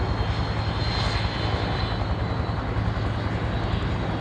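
A Canberra jet aircraft's engines roar continuously and loudly as it departs from an airshow, a broad, steady rumble with no break and no voices heard.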